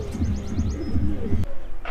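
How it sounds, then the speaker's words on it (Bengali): Pigeons coo in low, repeated throaty rolls, close by on a rooftop, with a few higher chirps above and a sharp click near the end. "আমাদের ছাদে আজকে যে অতিথি কবুতরটা এসেছিলো"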